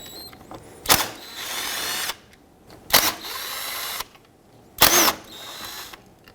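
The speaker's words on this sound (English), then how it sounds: "there are 3 10mm bolts that we have to remove. I'm going to start with this one at the bottom here." Three separate bursts of a power tool zipping out 10mm bolts on a 1997-2006 Jeep Wrangler 2.4L engine, each a short sharp whir followed by a sustained buzzing run, close and loud, with quiet pauses between.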